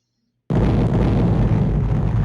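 A loud explosion from the Space Quest video game bursts in after half a second of silence and holds as a dense, sustained rumbling blast to the end.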